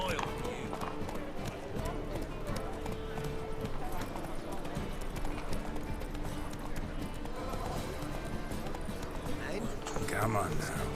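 Roach, a horse in the video game The Witcher 3, clip-clops along in a continuous hoof rhythm with an occasional whinny, under game dialogue and ambient sound.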